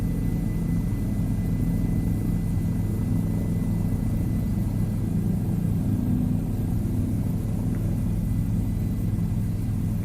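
Simulated helicopter in Microsoft Flight Simulator 2020, a steady loud rotor and engine drone with deep throbbing rumble that holds constant throughout, with no voices.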